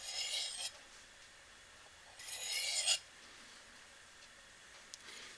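A knife blade drawn across a sharpening stone to shear off the burr: two distinct rasping strokes, each about half a second, close and crisp, separated by quiet, with a faint tick near the end.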